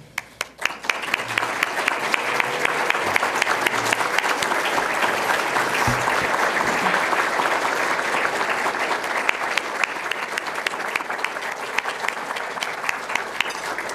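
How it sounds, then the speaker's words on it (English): A banquet audience bursts into sustained, loud applause, many hands clapping densely and steadily for the whole stretch, with faint crowd murmur underneath. "would you please stand and let's give a warm thanks and round of applause"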